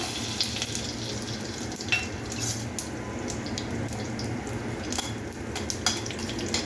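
Spices including fennel seeds sizzling and crackling in hot oil over a low flame, a steady frying hiss with scattered sharp pops and the occasional scrape of stirring.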